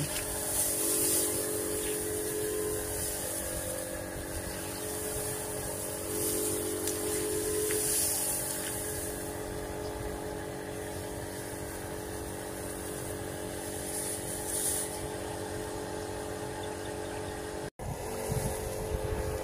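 A motorized backpack sprayer drones steadily while spraying pesticide over a rice field in cool, windy morning air, its engine hum continuous and fairly loud throughout with a faint hiss of spray and no talking.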